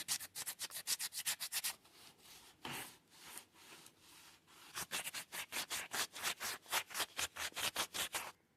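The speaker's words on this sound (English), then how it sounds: "If you have anything laying around, you can prepare the surface by doing a light scratch with maybe sandpaper." Sandpaper rubs rhythmically against the surface of a smartphone windsock in quick back-and-forth strokes, with a brief pause of slower scraping before fast, even strokes resume; close and fairly quiet.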